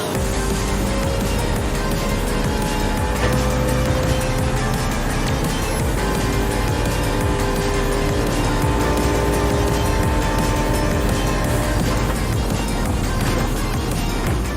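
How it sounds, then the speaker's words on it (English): An engine-swapped BMW M3 in Gran Turismo 7 roars continuously at full throttle, loud and dense, holding a sustained engine note for the whole stretch, with faint tire noise and no speech. "So we hit the gas and see just how fast this machine can get."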